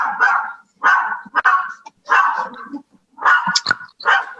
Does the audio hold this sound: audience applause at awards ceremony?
no